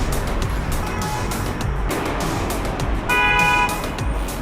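Busy road traffic rumbles continuously below a walkway among huge apartment buildings, with a loud, sustained car horn honk cutting in near the end.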